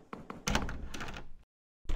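A locked door in a video game is tried, giving a series of close rattling thuds and knocks that stop abruptly, followed by a brief silence and another clunk.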